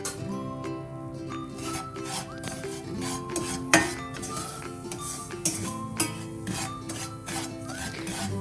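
Sweet snack ingredients, including flour and a pinch of salt, mixed in a bowl: continuous close scraping and rubbing with scattered metallic clinks of a spoon against the dish, with no voices.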